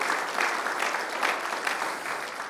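A church congregation claps for the Lord during a Spanish-language sermon, a dense, steady wash of many hands filling the room, loud and continuous without a break.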